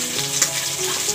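Sole fish frying in a pan for an amra sole curry, a steady close hiss and crackle of hot oil with no voices.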